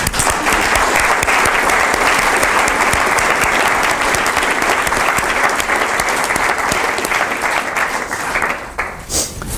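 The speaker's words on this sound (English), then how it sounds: "Let's give her an applause." Loud, sustained applause from a large conference audience, dense and steady throughout, tapering slightly at the very end.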